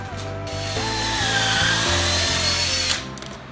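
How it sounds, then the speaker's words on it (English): A power drill bores pilot holes into boards for a chicken coop being built in a barn, a loud close motor whine sustained for about three seconds with pitch shifts as the bit bites, then spinning down. "pre-drill these boards"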